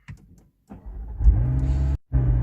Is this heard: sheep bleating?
no